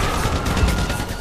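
Rapid explosions and gunfire-like blasts in a video game, a dense, loud barrage of bursts and booms rolling continuously with no pauses.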